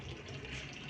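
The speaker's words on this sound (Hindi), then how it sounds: "अब ये आ रहा है पानी थोड़ा थोड़ा करके।" Water runs steadily from a tap into a tub, a continuous soft hissing splash heard alone, with no voices.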